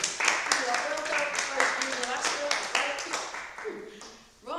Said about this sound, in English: And give yourselves a clap.